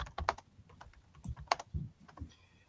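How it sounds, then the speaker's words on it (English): Light, quiet clicking from a computer keyboard as someone types a chat message, with irregular keystrokes close by and no talking. "I'm just typing in the chat here"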